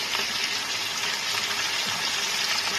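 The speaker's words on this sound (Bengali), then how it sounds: "আলু ফুলকপিটা এখানে একটু লাল লাল করে ভাজা হচ্ছে" Potatoes and cauliflower frying in oil for a chhanar bora jhol curry, giving a steady, dense, close sizzle that holds evenly throughout with no talking.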